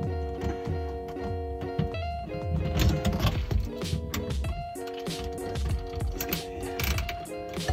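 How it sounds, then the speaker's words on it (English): A flathead screwdriver loosens the clamp on a dishwasher drain hose, making repeated close ratcheting clicks and metallic scraping mixed with handling clatter. "This guy's gonna loosen this clamp up."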